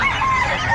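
A brief, loud burst of poultry calling close by at a pet market, a nasal clucking cry with no talk.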